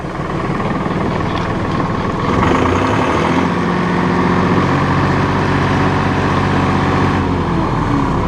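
Massey Ferguson 2605H two-wheel-drive utility tractor with an 8x8 transmission, running in low range first gear with the mower raised, a loud steady diesel engine drone that holds constant and close throughout with no talk.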